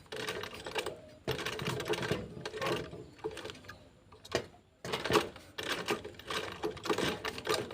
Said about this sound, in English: I'm just going to sew. The back stitch.